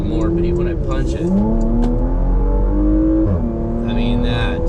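A 2021 Porsche Macan GTS accelerating hard, its engine note climbing through the revs and dropping briefly at a gear change before rising again, loud and close from inside the cabin, with a voice talking over it.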